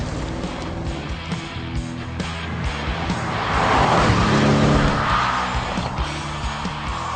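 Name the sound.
Audi RS7 car driving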